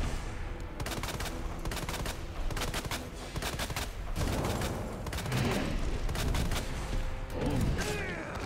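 Rapid, sustained gunfire in the Resident Evil 2 PC game as Leon keeps shooting, with dense volleys of shots running steadily through the whole stretch, loud and close.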